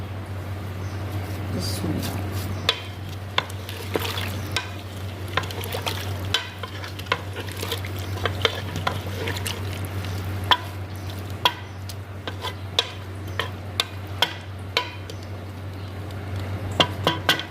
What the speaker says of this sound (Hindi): अब हम इन सब चीज़ों को एक बार मिक्स कर लेंगे